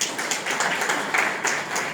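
An audience at a Gita seminar in Rishikesh claps steadily, a dense, fairly close patter of many hands that fills the whole moment.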